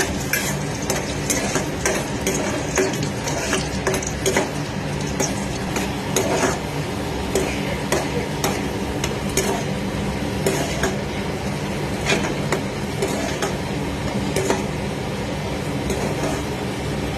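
Dry fruits frying in ghee and stirred steadily in a pan, a continuous sizzle with constant scraping and light metallic clinks close by, with no talking.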